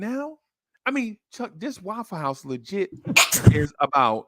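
A single quick sneeze bursts out partway through casual conversation, with people talking before and after it.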